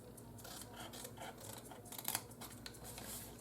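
Scissors snip the outer flaps of a cardboard gift box at the sides, quiet close crisp cuts and rustles coming in an uneven run.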